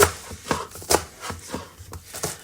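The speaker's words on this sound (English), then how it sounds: "So we're going to coarsely chop it." A knife coarsely chopping kale on a board, about eight uneven, fairly close chops with soft rustling leaves between strikes, no talking.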